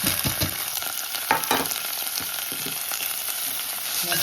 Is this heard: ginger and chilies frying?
yes